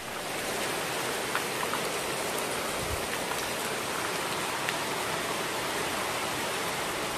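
Heavy rain pours down in a steady, dense hiss that fills the whole stretch, unbroken and close, with no talking.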